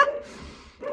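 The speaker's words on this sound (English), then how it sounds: "So sorry about the barking." A dog barks in short, harmonic bursts, once at the start and again near the end, fairly close and moderately loud against a quiet room.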